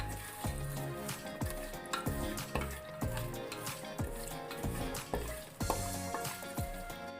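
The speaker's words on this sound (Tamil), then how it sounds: "இதை வதக்கிக்கலாம்" Whole spices, cloves, star anise, stone flower, cinnamon and cardamom, sizzle steadily in hot oil in a pressure cooker for chicken biryani, with repeated scraping and stirring clicks from a spoon against the pot throughout.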